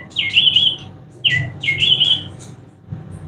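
A toy bird decoy meant for a camera trap gives out three short electronic chirping bursts, bright and close, separated by brief pauses, with a soft handling thump at the end.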